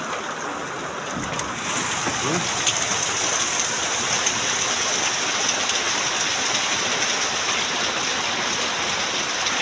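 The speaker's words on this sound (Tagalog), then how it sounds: "Ang ulan sa labas mga kadaks" Steady rain falls outside in a loud, even hiss that grows a little stronger after the first moments and continues without pause.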